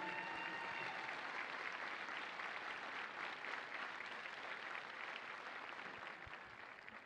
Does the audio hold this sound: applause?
yes